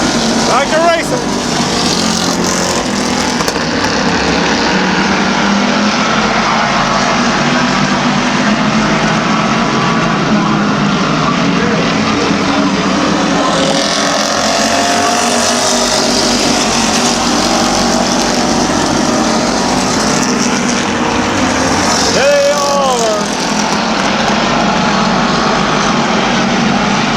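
Race cars at Midvale Speedway roar continuously and loudly around the track, with cars sweeping past near the start and again late on, and voices talking beneath the engine noise.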